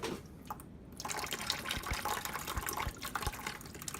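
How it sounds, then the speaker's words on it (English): Water gushing from an opened valve on a Navien tankless water heater into a bucket, a loud steady splashing stream with a few droplet plinks, close and without talk. "So water's going to come out here pretty fast"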